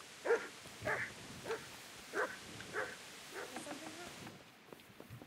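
A dog in Kingdom Come Deliverance gives a series of short, moderately near barks and yips at an uneven rhythm, with a voice speaking faintly alongside.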